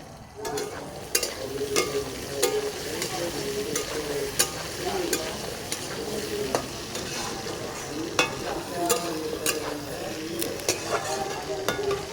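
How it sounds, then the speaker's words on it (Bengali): Potatoes and onions fry steadily in a pan, a continuous close sizzle broken by frequent sharp scrapes and clicks of stirring, with no talking. "আলুটা দিয়ে আমি আলুর সাথে পেঁয়াজটা পুরোপুরি ভেজে নেব"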